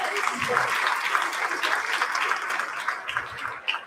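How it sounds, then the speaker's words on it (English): A board meeting audience gives a round of applause for a district office resource teacher: dense, continuous clapping from many hands, fairly distant and even throughout, with no talk over it. "Let's give her a round of applause"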